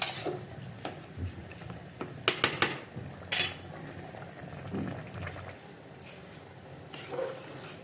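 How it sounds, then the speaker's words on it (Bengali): Water bubbling in a pot during chicken biryani cooking, with a low simmering burble and a few sharp clinks and clatters of utensils against the pot, close by and fairly quiet. "পানি ফুটতেছে"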